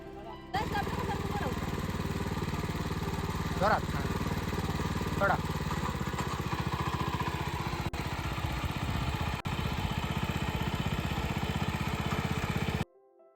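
A Fortune Agro power weeder engine with a large gearbox runs steadily at close range, giving a continuous mid-low motor drone with a few brief louder bursts.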